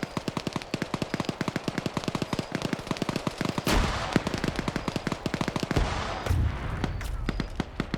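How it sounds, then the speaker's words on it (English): In a video game firefight, rapid bursts of automatic gunfire rattle on steadily and loudly, broken by a couple of heavier, broader blasts midway through. "Big explosion was just heard up here."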